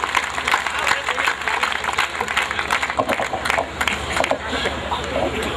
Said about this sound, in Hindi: आप उनके लिए जोरदार तालियां बजाएं।